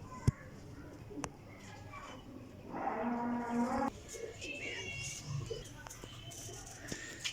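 Champion parwazi flying pigeons give a low, hollow cooing, one clearer stretch in the middle among faint scattered bird sounds and background noise.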